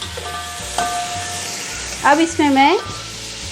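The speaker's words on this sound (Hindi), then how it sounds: "थोड़ा सा 2 मिनट इसको फ्राई करेंगे गोश्त को हम" Chunks of beef frying in a pan for haleem, a steady soft sizzle running under a woman's brief speech in Hindi-Urdu, with a faint stir now and then.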